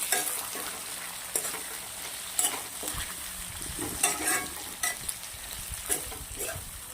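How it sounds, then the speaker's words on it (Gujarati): Karela sautéed in hot peanut oil with cumin and asafoetida keeps up a steady, close sizzle, punctuated by repeated brief scrapes and clacks of stirring. "કારેલાને આપણે તેલના અંદર સાંતળવાના છે."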